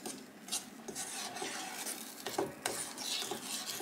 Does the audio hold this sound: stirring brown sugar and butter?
yes